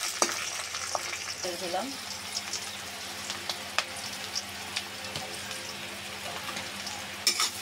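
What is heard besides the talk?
frying whole spices and onion in oil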